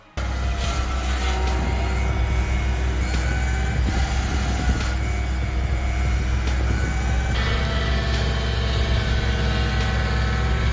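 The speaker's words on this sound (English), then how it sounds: "2954D wakes up with a growl" A John Deere 2954D forestry machine with a 271 horsepower engine growls steadily in the forest, a deep constant rumble with a few sharp mechanical knocks and clanks breaking through across the run.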